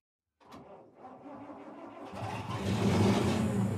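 A car engine cranks and catches in a radio drama, building from a starter whir into a steady, rising idle, close and fairly quiet.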